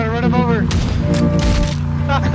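A Winchester rifle fires in a video game, a few sharp, cracking shots in quick succession while a voice talks excitedly over them.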